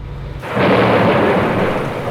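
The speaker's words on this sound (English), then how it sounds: "As night falls, a fierce storm strikes Salur Bay." A fierce nighttime thunderstorm over the sea at Salur Bay, off a boat, breaks in as a sudden loud rolling roar of thunder that swells and then sustains with a heavy wash of rain.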